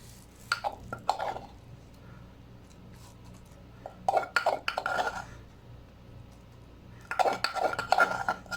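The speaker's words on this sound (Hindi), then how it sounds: "अभी हम इसको एक बर्तन में डालेंगे।" Mint and yogurt chutney being transferred into a pot, with scattered bursts of dishes and utensils clinking and scraping at close range, separated by quiet pauses.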